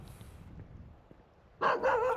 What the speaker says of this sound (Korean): 집 앞에 댕댕이가 제법 많이 짖어서